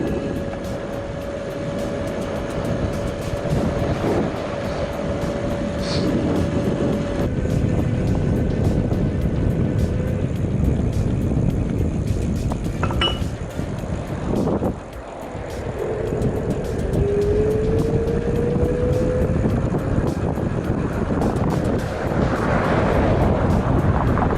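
An Ancheer (Eshion Cyclam) electric bicycle rides at full throttle with no pedaling, partly uphill, its faint motor whine rising in pitch under heavy, constant wind rush across the microphone.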